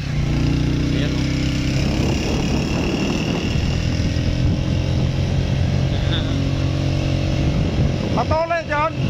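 A motorcycle rides along a rough road, its engine rumbling steadily and close throughout, with voices talking over the engine noise.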